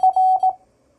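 Morse code letter F sent from a Begali CW keyer: a quick run of clear, loud electronic beeps, short-short-long-short, ending in silence.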